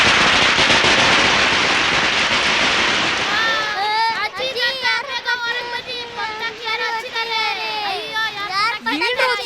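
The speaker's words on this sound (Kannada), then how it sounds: "ಪಟಾಕಿ ಯಾರು ಹಾಕಿದ್ದು?" Firecrackers burst in a loud crackling barrage at first, then people shout and exclaim excitedly over the fading noise in a Kannada-dubbed film scene.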